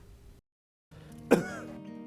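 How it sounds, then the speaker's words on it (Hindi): A single short cough with a throaty edge sounds close by after a brief silence, over faint background hum. "कब से खांसी है इनको?"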